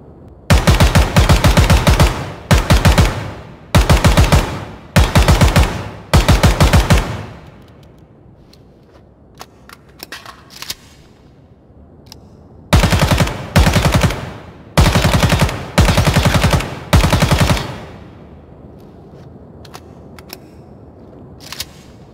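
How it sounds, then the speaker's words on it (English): An AK-74U rifle fires in the video game Ground Branch. Loud, close bursts of rapid automatic fire come in two groups, each burst cut short by a brief pause, with near silence between the groups. "Up next, we got this more updated version of the AK-74U model."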